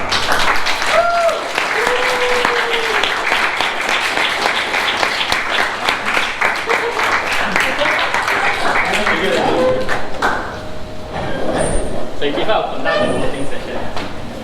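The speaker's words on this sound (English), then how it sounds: "I would like everyone to stand up and give a warm applause to Dinda." A Toastmasters club audience on its feet giving a standing ovation, loud sustained applause from a full room that thins slightly near the end, with voices and cheers mixed in.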